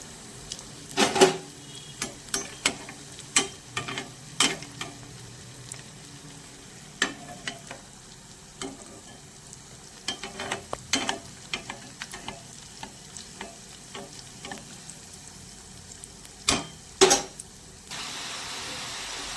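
Green pea chops frying in hot oil in a nonstick pan, a quiet steady sizzle broken by repeated sharp clatters of a spatula or utensil against the pan, spread irregularly across the clip.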